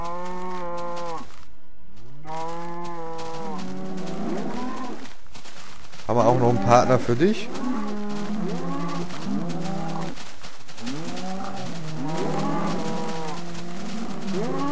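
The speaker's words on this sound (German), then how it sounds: "Oh mein Gott, eine Herde von Kühen." Minecraft cows moo repeatedly in loud, overlapping calls, while someone talks briefly partway through.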